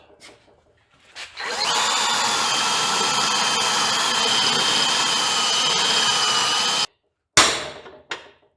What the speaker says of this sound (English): It's spot welded with 2 spot welds, so I'm gonna try to drill them out.